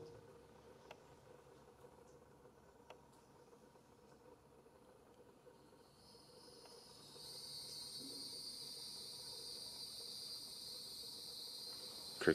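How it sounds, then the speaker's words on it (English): Crickets chirp in a steady, thin, high trill inside an old abandoned hospital, faint at first and then growing louder and denser halfway through, with no voices over them. "Crickets."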